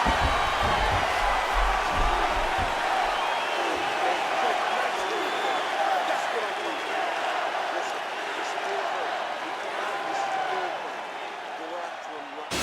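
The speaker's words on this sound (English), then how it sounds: "the crowd enjoyed those 5 minutes" Arena crowd in the UFC 4 video game giving a sustained roar of cheering and applause between rounds, a dense steady wash of noise with a commentator talking over it.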